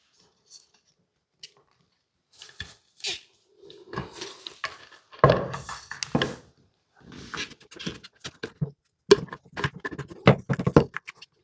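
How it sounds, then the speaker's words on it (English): Recoil plate being fitted back onto a Wards Hercules Model 10 shotgun during restoration: close, intermittent knocks, scrapes and handling clatter of metal and wood in short bursts against a quiet room. "next I'm going to put the recoil plate back on"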